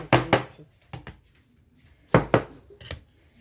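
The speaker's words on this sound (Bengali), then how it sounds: "আর একটু ঠুকে দিচ্ছি, সমান করে নিচ্ছি" Steel bowls filled with palm-fruit cake batter tapped down against a surface, giving two clusters of dull knocking thuds, a few close, fairly loud raps in each burst with quiet gaps between.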